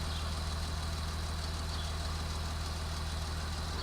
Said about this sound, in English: Daddy starts up the machine and revs the tractor hard